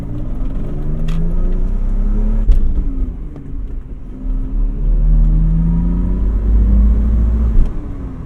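A cheap car's engine running badly, low rough revving that swells and drops in several pulls, heard from inside with deep rumble and a couple of sharp knocks, no talk.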